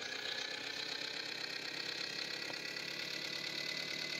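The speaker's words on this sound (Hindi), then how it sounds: "ले चलते हैं ट्रैक्टर को चलाने में कितना मज़ा आता है" A tractor engine in a video game runs steadily at a mid pitch, with an even, continuous drone that holds at constant loudness from start to finish.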